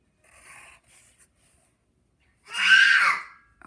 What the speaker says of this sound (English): excuse my children as they scream this morning